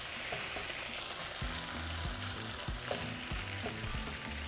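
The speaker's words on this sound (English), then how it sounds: "after 3 minutes, we're going to add the beans. Okay, just mix it." Beans being stirred into a frying pan for breakfast gorditas, with a steady sizzle underneath and repeated scraping knocks of a spoon mixing them through, fairly close and continuous.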